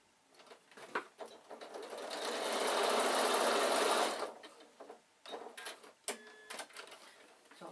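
A sewing machine stitches elastic onto an insulated picnic bag in one close, swelling run of a few seconds, followed by softer handling noises and brief talk.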